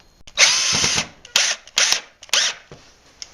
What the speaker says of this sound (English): your other option is to screw the jig directly to the workpiece if holes are not going to be an issue